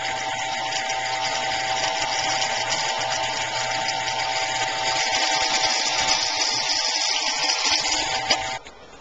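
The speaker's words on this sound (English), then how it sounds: "Alright, we drilled the holes." A power drill whines steadily while boring holes in wood for a guitar neck, a continuous high mechanical drone that cuts off abruptly near the end.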